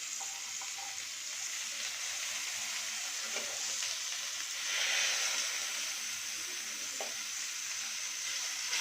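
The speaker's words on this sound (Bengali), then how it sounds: "এবারে আমি এটাকে সবগুলোকে একটু উল্টিয়ে দেবো, যাতে অপর সাইডটাও ভালো করে ভাজা হয়ে যায়।" Mola fish paturi wrapped in bottle gourd leaves fries in a pan with a constant dense sizzle, close and even, swelling briefly midway, with a few faint utensil touches and no speech.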